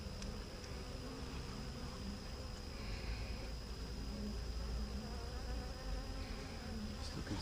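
Honey bees buzzing at the entrance of a queenless hive as they carry in pollen, a steady close droning hum of many insects continuing without pause and without speech.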